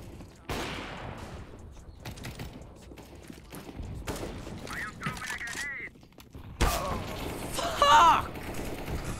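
Gunfire in an online multiplayer shooter game, sharp bursts of shots scattered across the clip with a denser volley near the end, heard under ongoing voice chat and game noise.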